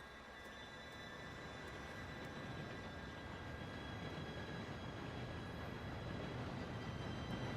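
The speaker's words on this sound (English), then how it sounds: "Train should be here any minute now." A steam train in Red Dead Redemption 2 rumbles toward the player, a low continuous rolling roar with faint metallic ringing, steady and moderately distant, no voices.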